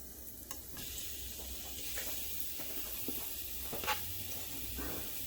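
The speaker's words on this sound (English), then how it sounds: "Hear that sizzle?" Meat sizzles steadily in a hot stock pot for soup, a constant frying hiss with occasional clinks and stirring sounds, no talking.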